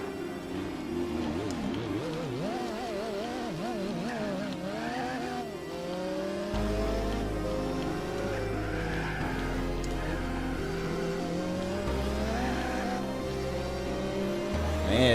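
An Audi R8 race car in Gran Turismo 4 revs hard through its gears, with shifting engine pitch and repeated tire squeal as it corners at speed.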